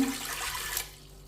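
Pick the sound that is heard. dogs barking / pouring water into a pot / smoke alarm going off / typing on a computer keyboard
pouring water into a pot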